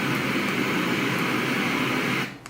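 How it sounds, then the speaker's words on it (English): An Etekcity white noise machine plays a steady rushing water setting resembling a river or small waterfall, a loud, even hiss that holds constant and then cuts off near the end. "Second one is another water noise. Sounds a bit like a river or a small waterfall."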